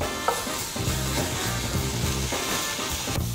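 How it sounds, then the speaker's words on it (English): Bacon renders in a pan with a loud, steady crackling sizzle and occasional stirring scrapes, close up throughout. "so let's render our bacon"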